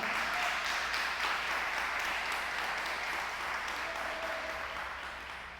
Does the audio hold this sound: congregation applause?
yes